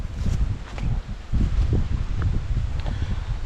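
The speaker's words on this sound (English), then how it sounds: "So you can hear that wind, feel the wind coming there now" Wind blowing through Kyloe Woods in Northumberland on the way up toward the crags, a heavy low rumbling gust buffeting the microphone, continuous and loud with faint rustling on top.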